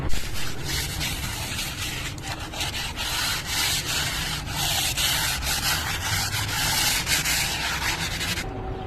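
Continuous rough, scratchy rubbing of 80-grit sandpaper against a surface, steady and close, with rhythmic strokes that stop abruptly near the end.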